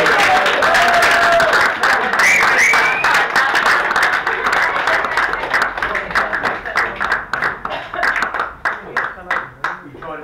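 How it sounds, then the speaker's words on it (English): A magic show audience applauds a volunteer, with dense clapping and cheering at first that thins into scattered, individual claps as it dies down. "Everyone give John a big round of applause"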